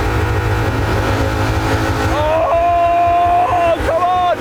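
BMW and Lexus V8 engines run without oil, revving hard toward redline with a loud, sustained mechanical roar and rising whine, while people talk over the noise.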